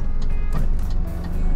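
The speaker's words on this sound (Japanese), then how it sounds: "俺この予備車のウィンカーの音好きなんよね" Regular hazard-light clicking pulses tick at an even rhythm inside a parked car, with a low steady engine hum underneath and no talking.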